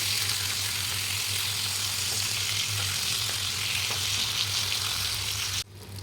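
Kanangeluthi fish frying on a tawa with little oil, a loud, steady close sizzle with a low hum beneath, broken off sharply just before the end.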